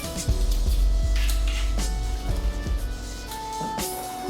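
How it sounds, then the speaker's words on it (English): Knife slicing an onion into fine, long strands on a cutting board, a run of quick, close, crisp cuts with light clinks in a home kitchen, no talking. "So I'm gonna cut it slightly, very fine, long strand of the onion"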